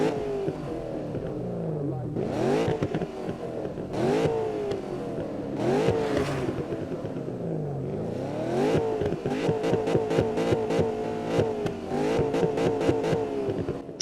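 Ford Mustang GT engine in the Need for Speed racing game, revved repeatedly in sharp climbing bursts that fall back to idle, then a quick run of rapid short blips near the end.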